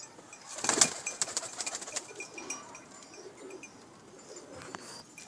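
A quick burst of flapping wings comes early, followed by a few sharp clicks and soft pigeon coos nearby.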